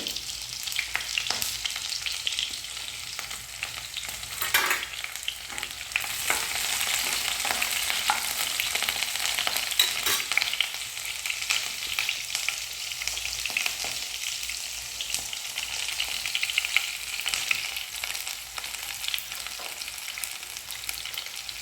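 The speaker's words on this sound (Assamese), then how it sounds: "এতিয়া মই কেৰাহীত মিঠাতেল গৰম কৰিলোঁ আৰু ইয়াতে মই নহৰু দি দিম আৰু কেঁচা জলকীয়া। এইখিনি মই অলপ ৰঙচুৱা হোৱালৈকে ভাজি ল'ম।" Garlic and green chillies fry in hot mustard oil in a wok, giving a steady, close, continuous sizzle with occasional stirring scrapes and no talking.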